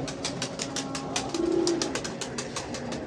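Pigeons coo softly over a steady background hum, with one brief louder coo in the middle and faint rhythmic noises throughout.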